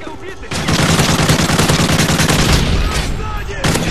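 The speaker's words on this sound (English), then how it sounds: "Shooting at my turret, I'll kick your ass." Loud sustained automatic gunfire in a video game, aimed at a player's turret, comes as a dense rapid burst lasting several seconds before briefly cutting off and resuming.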